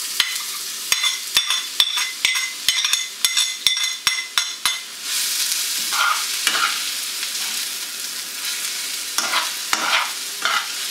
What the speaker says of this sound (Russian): Добавляю подсолнечное масло. И обжарим лук с морковкой.